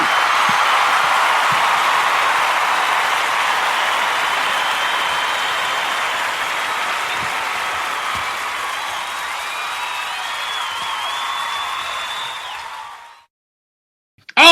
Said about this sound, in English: what a wonderful round of applause